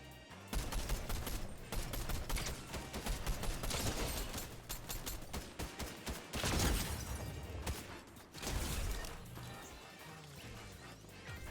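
Sustained gunfire from an unseen source, dense volleys of rapid shots and crashing impacts that keep going for several seconds, loud and chaotic with no voices over it.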